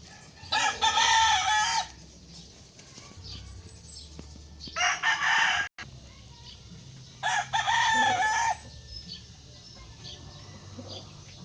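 Bulik gamefowl roosters in a backyard gamefarm crow three times in long, loud calls spaced a few seconds apart, with softer clucking and farmyard murmur between them.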